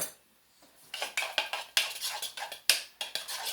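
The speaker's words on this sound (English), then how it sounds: "then we're just going to give that a stir" Cauliflower parmesan dish stirred in a pan, a quick run of close metallic scrapes and clinks from a utensil against the pan, starting after a quiet moment and repeating in an uneven rhythm.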